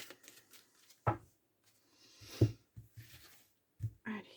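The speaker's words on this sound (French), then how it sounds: "Allez, donc tirage en 9 cartes pour les béliers." Tarot cards shuffled by hand in a few short riffling bursts, with soft papery rustles between them, fairly close and quiet, no talking.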